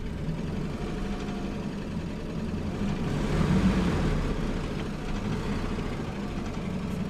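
A 1965 Ford Mustang coupe's 289 V8 with an automatic runs steadily while warming up after sitting, a low rumbling idle that swells briefly in the middle, with no voices.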